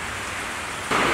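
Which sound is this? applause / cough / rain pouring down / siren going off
rain pouring down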